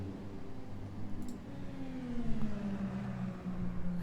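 An Indycar race car at the Adelaide Parklands circuit approaches with a rising then falling engine drone that sweeps downward in pitch, moderately distant, over steady background noise.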